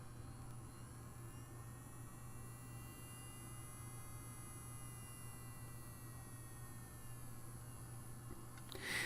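A small DC motor in a lab setup runs as a steady, faint whine and hum, its pitch slowly gliding up and back down, with a brief louder burst at the very end.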